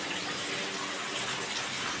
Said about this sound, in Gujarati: ધીમી ધારે વરસાદ વરસવાનું ચાલુ જ છે।